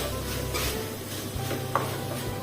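Cooked rice being stirred into mint pudina masala in a pan for pudina rice, giving a soft continuous scraping and rubbing with faint sizzling, close and steady with one brief sharper clink near the end.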